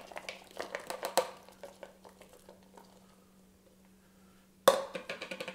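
Sliced onions tossed into a salad bowl for a Greek cucumber salad, a cluster of light clattering taps and rustles, then a lull with a steady low hum, then a sudden sharp clatter followed by more light clinks.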